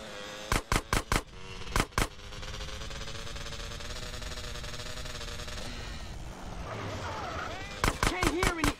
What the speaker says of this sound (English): Stop shooting that thing right next to my ear!